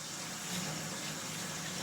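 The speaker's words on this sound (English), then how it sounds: "I gotta rinse my hands." Tap water pours steadily from a faucet as sticky, honey-covered hands are rinsed, a faint, even rushing hiss with no breaks across the short stretch.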